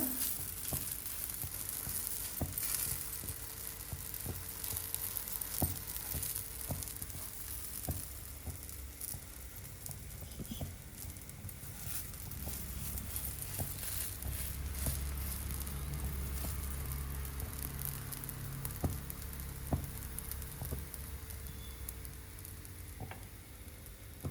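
Palak paratha sizzles steadily in oil on a hot pan, a continuous close frying hiss with scattered small pops and crackles, alone without any talk.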